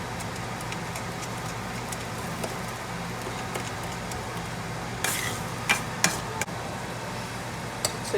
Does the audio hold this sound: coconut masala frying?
yes